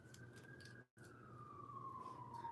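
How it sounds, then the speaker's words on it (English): An emergency vehicle siren wails outside in the distance, a steady rising-and-falling tone with a brief dropout, faint and heard alone. "That's all I hear is sirens, sirens, sirens."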